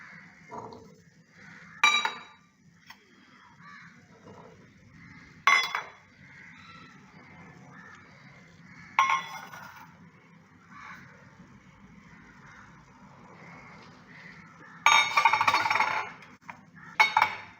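Cut jackfruit, mango and banana pieces are tipped into a large bowl for fruit salad, giving scattered clinks and soft clattering knocks against the bowl in separate bursts, with quieter handling between them.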